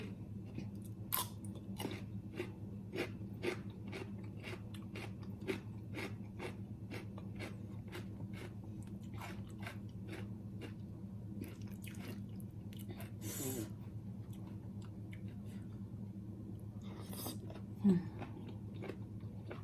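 Someone bites and chews a crunchy, spicy Thai yam salad up close. Crisp crunches and chewing clicks repeat at an irregular pace over a quiet low hum.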